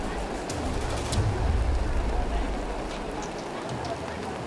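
Rain falling during aftershock relief in Nepal, a dense continuous hiss of drops on surfaces with low rumbling underneath, steady and fairly loud throughout.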